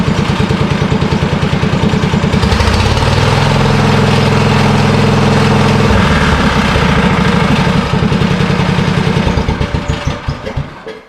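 A Massey Ferguson 1650 tractor engine runs close by, loud and steady, with a rhythmic diesel chug that rises into a stronger rev midway and then settles back toward idle.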